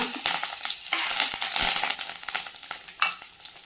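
Curry leaves crackle and sizzle in hot oil for a murungaikaai thokku, a dense, busy spitting with sharp pops and a few louder bursts, close and steady throughout, no voices.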